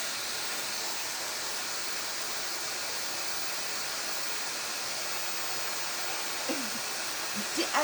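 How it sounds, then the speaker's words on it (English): A steady, powerful rush of blowing air from an electric dryer, loud and continuous with a brief faint rustle near the end. "I decided to use this dryer"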